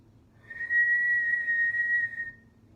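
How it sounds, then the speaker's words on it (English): One clear whistled note is held steadily for about two seconds at moderate volume, alone and without speech, as people try whistling together. "Everyone want to try whistling one more time?"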